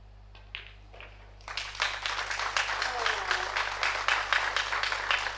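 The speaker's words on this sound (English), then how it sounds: "Here's some applause coming over from table number 1." Applause from a neighbouring table at a pool tournament, the Predator Eurotour Luxembourg Open: after a quiet hall with a couple of soft knocks, a steady crowd of clapping swells up and carries on, moderately distant, with a commentator talking over it.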